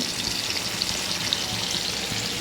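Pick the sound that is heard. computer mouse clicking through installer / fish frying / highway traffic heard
fish frying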